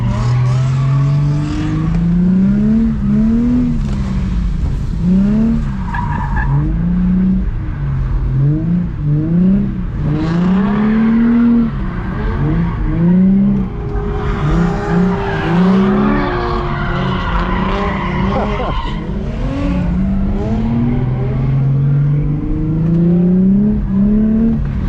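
Infiniti G35 sedan drifting at a drift event, engine revving hard in repeated rising and falling bursts while tires squeal and skid almost continuously, loud and close from inside the car.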